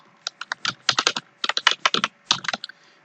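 Rapid bursts of typing on a computer keyboard, close and crisp, with quick irregular key clatter and short pauses between words.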